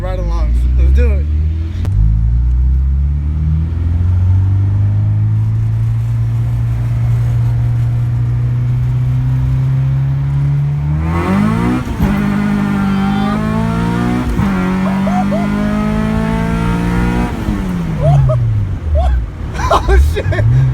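A stock K24-engined Acura Integra accelerates hard from inside the car on a ride-along, its engine droning loudly and climbing in pitch through several gear shifts, with excited passengers shouting and talking over it.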